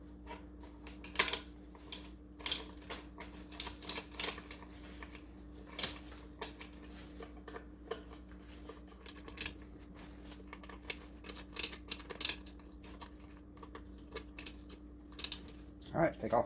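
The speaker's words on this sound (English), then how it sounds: "I'll just snug these screws up." Screws being snugged up on a cabinet pull handle with a hand driver, a run of small, sharp clicks and ticks at irregular intervals, close by and fairly quiet over a faint steady hum.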